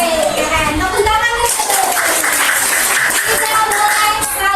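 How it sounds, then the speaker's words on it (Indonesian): A classroom of children claps together in a dense, steady burst of applause for a few seconds, with kids' voices mixed in. "Tepuk tangan."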